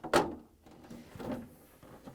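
A GE freezer drawer gives a sharp plastic clunk as it is pulled free, followed by a softer scraping slide as it comes out; close and otherwise quiet.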